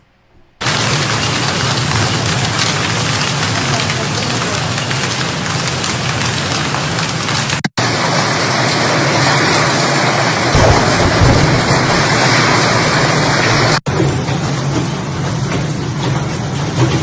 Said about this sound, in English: A giant 5-inch water and hailstorm literally knocked down Porto Sant'Elpidio.